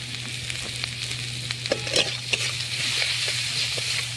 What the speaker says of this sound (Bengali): দিয়ে একটু নাড়িয়ে নেবো, তারপরে ভাজা মশলাটা